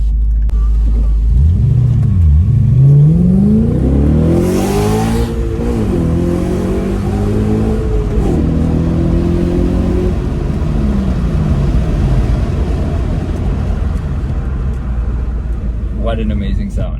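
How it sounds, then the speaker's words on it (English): A 2000s Audi RS4 (B7) V8 engine revs and accelerates, deep burbling roar rising and falling through several gear changes, loud and close. "it comes with a glorious V8, and maybe we can listen to that V8 just a little bit"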